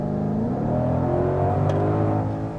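A 2020 Ford Mustang GT500 accelerating at half throttle from inside the car, a loud continuous engine roar with rising tones throughout the short burst, no talking.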